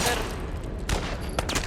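Gunfire in The Last of Us Part 1, a sharp burst at the start followed by further loud shots around the middle and end, with a mix of game sound and noise between them.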